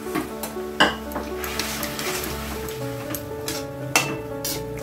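Soaked tamarind and mustard go into a pan of cooking bottle gourd chutney, with steady sizzling and stirring throughout and a couple of sharp utensil clinks against the pot, close and continuous.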